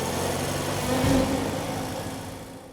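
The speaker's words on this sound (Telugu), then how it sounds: "ఆ హెలికాప్టర్ శబ్దం ఎక్కడి నుంచి వస్తోందబ్బా?" A cartoon helicopter hovers in place, its engine giving a steady, fairly loud droning hum with a slight swell in the middle and no voices over it.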